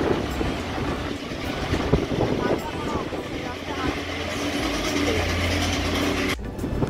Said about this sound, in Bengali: এখানে আমরা একটি টয় ট্রেন যাওয়ার ছবি তুলেছি